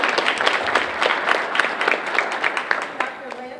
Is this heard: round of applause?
yes